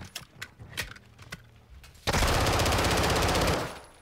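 Call of Duty Modern Warfare 2 campaign gunfire on PS5: scattered shots and clatter, then a loud, sustained automatic burst of about a second and a half that stops abruptly.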